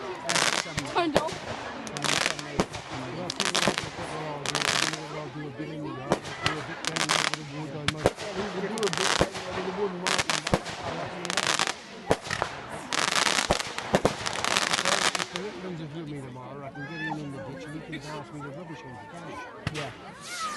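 Bonfire night fireworks burst in a rapid run of sharp cracks and bangs, some near and loud, others further off, while people talk in the background.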